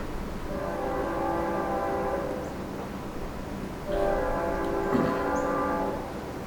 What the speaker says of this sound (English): Let's let this train pass.